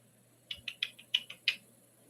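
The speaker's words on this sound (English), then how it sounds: "Sorry, I'm typing something in." Quiet taps on a computer keyboard: about seven short, irregular keystrokes close by in a still room.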